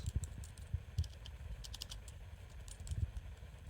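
Typing on the wireless keyboard case of a 10-inch Android 9.0 2-in-1 tablet: a quiet, close run of soft key clicks and taps in irregular bursts, with no voices.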